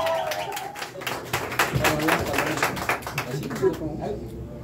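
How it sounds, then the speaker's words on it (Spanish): Applause at a mariachi birthday party, a group of people clapping loosely and unevenly at a moderate level, with voices mixed in beneath the claps. "El aplauso fuerte, fuerte,"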